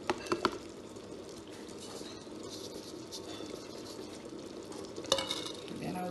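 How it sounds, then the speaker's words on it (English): Iba soup with bitter leaf is stirred in a pot, a faint low bubbling and sizzle with a few soft clinks of the spoon against the pot at the start and near the end. "Then I'll stir it."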